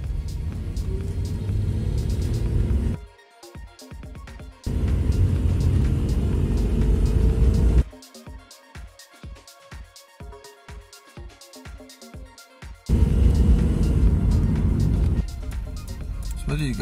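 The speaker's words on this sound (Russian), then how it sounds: "Сейчас мы будем опять тормозить на светофоре." A car drives through city traffic and brakes for a traffic light, with a steady engine and road rumble that cuts out and returns in long sections while someone talks over it.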